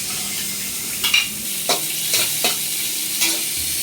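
Sliced onion dropped into hot frying oil for a home-cooked sweet and sour dish, a loud close sizzle with several sharp scraping stirs of a spatula over the continuous hiss.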